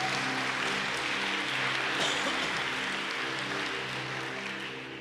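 Church congregation applauding, a dense steady wash of clapping from a crowd that holds for several seconds and then slowly fades a little.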